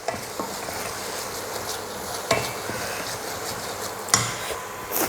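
A tomato mixture sautéed and stirred in a pan for Karaikudi chili mandi, giving a soft, continuous sizzle with a couple of sharper scrapes of the spoon against the pan, and no talking.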